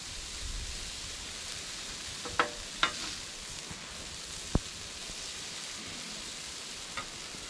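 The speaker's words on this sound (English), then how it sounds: "Throw a little layer of cheese down on the griddle." A thin layer of cheese sizzles on a griddle while a breakfast burrito is made, a steady soft hiss broken by a few sharp clicks and taps from a utensil.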